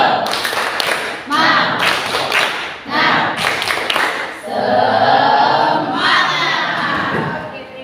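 Eighth-grade students in a classroom clap a rhythmic cheer pattern together, loud and close, with sharp repeated claps giving way to a burst of shouting voices.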